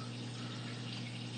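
Water from a pump filling an aquaponics grow bed, heard as a steady, close, continuous gushing and trickling flow with a constant low hum underneath and no talking.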